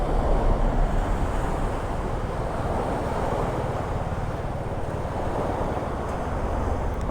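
Sea waves break and wash onto Na Jomtien beach in Pattaya, a continuous rushing surf roar mixed with wind buffeting the microphone, steady and fairly loud throughout with no voices.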